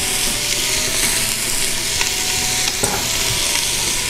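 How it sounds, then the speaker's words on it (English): Onions and bacon frying in a pan while being stirred, a steady close sizzle throughout with a few sharp scrapes of the utensil against the pan. "I'm gonna give it a stir."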